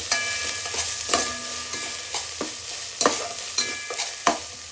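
Ginger-garlic paste stirred in a pot on a stove over low heat for chicken keema, with a soft sizzle underneath and scattered scraping knocks at an irregular pace, close and steady.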